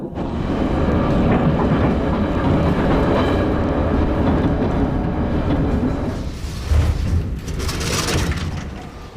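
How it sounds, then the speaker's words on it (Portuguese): A retro 1935 metro train runs on its rails with a loud, continuous, heavy rumble and rattle that eases slightly near the end, with no talking. "Retropoiezd, vagão ou trem retrô de 1935, número 1, aí está."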